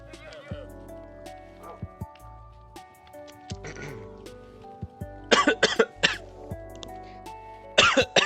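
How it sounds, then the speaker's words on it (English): A person who has just choked on water coughs and clears their throat in several sharp bursts, loud and close, mixed with brief spoken sounds between the coughs. "I just choked on some water"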